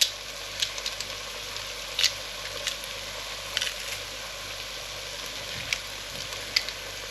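Two garlic cloves fry in a hot pan with browned onions for French onion soup. A steady, close sizzle carries scattered sharp pops and crackles throughout.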